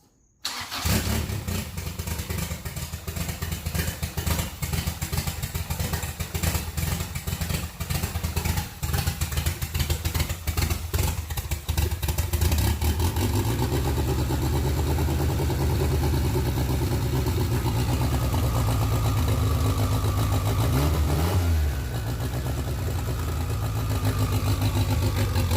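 An engine on its first warm start after repair, cranking briefly and then running steadily at a loud, close idle with a constant low rumble and a short blip in revs near the end, with no talking.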